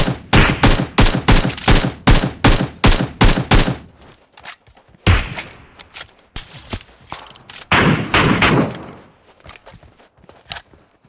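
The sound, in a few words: gunfire in the video game PUBG Mobile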